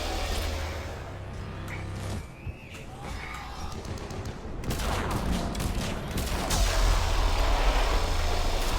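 Heavy weapons fire and blasts in Mass Effect 3, a low rumbling barrage that swells louder and denser in the second half, with sharp bursts piling over a continuous roar.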